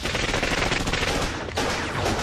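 Dense, rapid gunfire crackles continuously during a hostage rescue, a loud sustained barrage of overlapping shots with no pauses.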